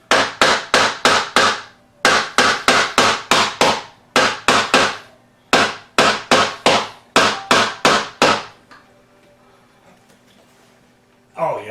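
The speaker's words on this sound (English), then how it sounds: "So I got to just keep hammering at it and hope for the best." A hammer strikes a stubborn closet door hinge pin in quick bursts of four or five sharp metallic blows, separated by short pauses. The ringing tapers into quiet near the end before one last hit.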